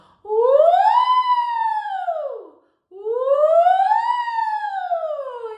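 A single voice imitates a siren with two long rising-and-falling glides, clear and close with no other sound.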